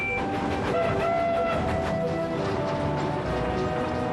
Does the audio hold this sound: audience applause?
no